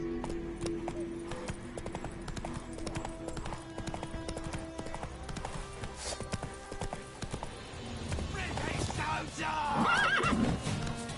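Roach, the horse in The Witcher 3, trots with steady clip-clop hoofbeats, then lets out a loud neigh near the end, all close and clear over quiet game ambience.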